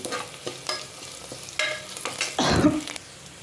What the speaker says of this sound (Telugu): ఇప్పుడు మొలకెత్తిన పెసర్లు కొద్దిగా ఉలవలు వేసుకునేసి ఫ్రై చేసుకున్నాం